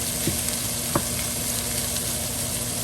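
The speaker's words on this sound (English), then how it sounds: "Just gonna finish breaking up the meat and then mix it in with the potatoes and onions." Corned beef hash with potatoes and onions sizzles steadily in a pan, the meat crisping as a spatula breaks it up, with a couple of short scraping knocks over the continuous hiss.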